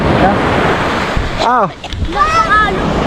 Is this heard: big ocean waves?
yes